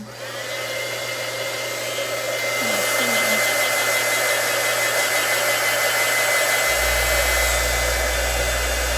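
A hair dryer blows steadily to dry bleach artwork, a loud continuous close whoosh that holds for the whole stretch and deepens slightly partway through, with no talking.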